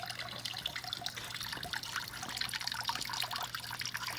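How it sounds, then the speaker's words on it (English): Steady trickling of water from a pump-driven indoor tropical water feature set in a pot without a drainage hole, a continuous close splashing patter with no talking. "So the last part of this water feature is plug it in and see how it goes."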